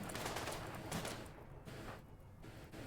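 Video game gunfire crackles in rapid bursts, a dense run of shots that eases briefly in the middle and then picks up again, steady and close throughout.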